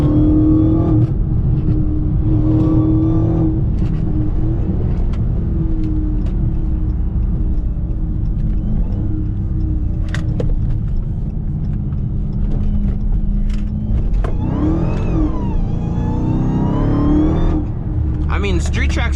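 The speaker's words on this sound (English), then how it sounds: "because I'm gonna try to floor it under this. It's still gonna spin." An 800hp Dodge Hellcat is floored with its wheels spinning, heard from inside as a loud, constant engine drone that rises in a revving surge near the end, with someone talking over it.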